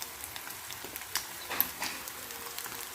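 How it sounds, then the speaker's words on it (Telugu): Egg fried rice fries in a pan with a steady, soft sizzle and crackle, broken by faint scraping stirs. The noise is low and even, with no voices. "ఇప్పుడు ఫ్రై అయింది."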